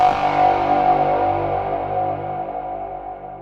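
A Korg MS-20 synthesizer plays a ping bass patch: one loud, gritty, distorted tone that rings and slowly fades, heard alone with no voices.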